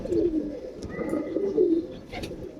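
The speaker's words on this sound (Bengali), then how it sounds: "দেখো পায়রা দুটোকে ছেড়ে দেখানো হলো" A pair of released pigeons coo in soft, repeated, rolling calls, close and clear, with no talking.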